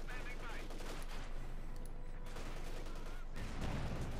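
Rapid gunfire bursts from a Company of Heroes 2 battle, machine gun fire crackling steadily through the whole stretch amid a dense wash of combat noise, with a heavier rumble swelling near the end.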